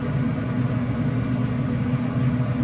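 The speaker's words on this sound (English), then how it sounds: "I think I hear the auger starting to move" The slow-turning auger of an Oklahoma Joe Rider DLX pellet grill, set on low, gives a steady low motor drone that holds unchanged throughout and sits close and fairly loud.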